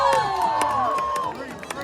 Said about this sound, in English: This is the part of the show where we get to cheer on our Lumberjacks. Let's make some noise.